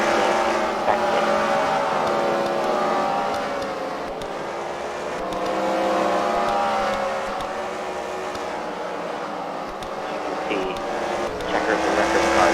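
Race cars at a CWRL racing event at the Freedom Factory, engines roaring and droning in sustained, wavering pitch as they circle, a loud continuous blend with shifting swells and no clear gaps.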